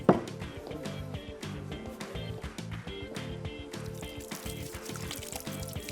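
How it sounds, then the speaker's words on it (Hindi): Hands are washed under a running kitchen tap, a steady close splash and trickle of water with a sharp knock at the start, then continuous even flow and no talking. "हाथ में धो लेती हूँ।"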